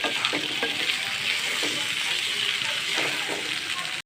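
Ginger-garlic paste fries in a large pot and is stirred, producing a continuous loud sizzle with rhythmic scraping strokes.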